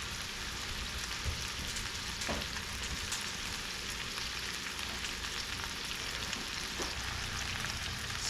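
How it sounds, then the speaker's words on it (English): Ground venison and sausage meatballs brown in a hot skillet, giving a steady, dense sizzle and crackle that runs without a break, close and even throughout. "I'm going to brown them in the skillet"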